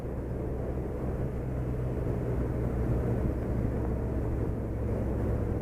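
A Suzuki Hayabusa motorcycle cruises in fifth gear at around 2,000 RPM and 35 mph, a steady low, smooth engine hum and rumble with constant road and wind noise, no talk.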